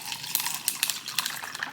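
Ice-cold water pours and splashes into a glass at home, a quick trickling run with small clinks and bright droplet spatters, close and alone.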